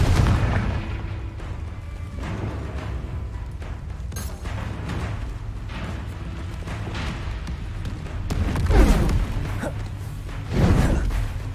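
Spell explosions from Hogwarts Legacy, a Confringo fire blast among them, boom in layered bursts with whooshes over continuous rumbling game combat; the louder blasts swell near the end.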